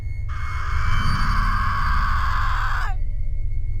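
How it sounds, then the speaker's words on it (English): A single high, sustained scream rings out for a couple of seconds and trails off with a downward slide over a low background hum. "I hear a woman scream"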